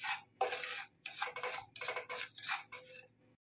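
Dry semolina (sooji) roasting on a low flame in a pan, a spoon scraping and stirring it in repeated raspy strokes, close and fairly quiet with short pauses between passes.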